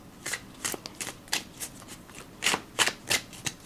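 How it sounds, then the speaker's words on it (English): A glossy, slick-coated Teknebrae Tarot V2.0 deck is shuffled by hand, giving a string of crisp, close card flutters and slaps in quick irregular bursts with no talking. "Overhand shuffling is fine. Riffle shuffle is fine."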